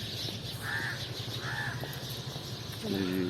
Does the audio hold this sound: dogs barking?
no